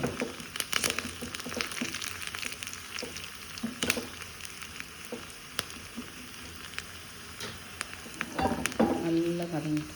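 Tempering spices frying in oil for a drumstick, mango and brinjal sambar, a steady close sizzle with scattered crackles and spoon taps throughout, a brief faint voice near the end.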